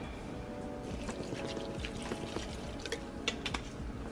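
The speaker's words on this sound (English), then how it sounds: "we're going to pour a little water in" Water poured into a pan holding a full pack of El Paso taco seasoning for taco filling, giving a steady close splashing pour with small drips and sloshing throughout, no talk.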